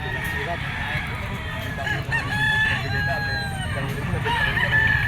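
A straight-combed, yellow-legged gamecock of the lemon sweater bloodline crows loudly and close, its calls drawn out over the background noise of a busy pet market.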